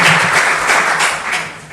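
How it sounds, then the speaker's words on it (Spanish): Crowd applause welcoming a speaker at a Lima legal lecture on amparo and habeas corpus, dense steady clapping that fills the room and fades slightly toward the end. "quisiera que lo recibamos con un fuerte aplauso como bienvenida"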